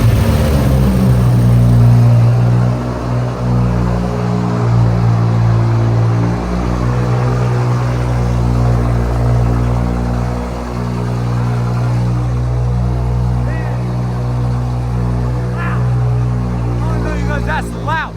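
A BMW 535i turbo engine with a cold air intake catches and settles into a loud, deep rumbling idle, with occasional revs swelling and fading.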